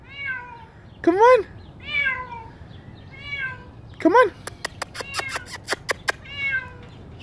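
A cat trapped in an emptied swimming pool meows several times, clear and close, with a burst of rapid clicking in between while someone speaks coaxingly.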